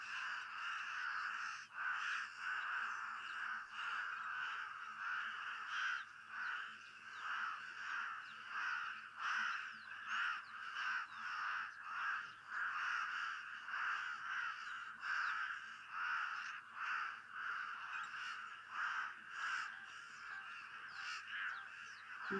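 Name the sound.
pied crows and Cape crows cawing at a waterhole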